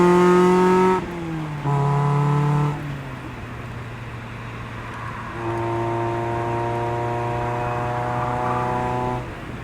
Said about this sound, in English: You can hear the tires begging for mercy.